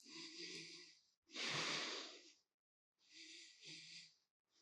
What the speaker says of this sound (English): 5 breaths, Ujjayi breath